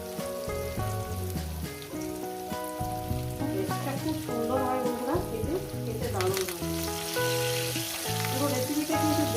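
Potatoes and young jackfruit pieces sizzle loudly and steadily in hot oil for several seconds, under continuous background music.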